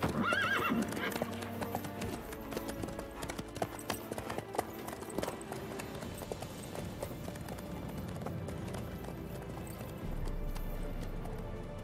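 A horse's hooves clip-clop steadily at close range on a medieval road, with a brief neigh early on and a mix of hoof rhythm and ambient noise continuing throughout.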